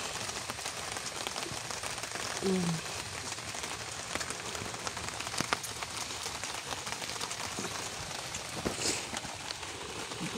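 Rain falls steadily at night as a dense, even hiss of drops on surfaces, with a brief low voice murmuring faintly early on.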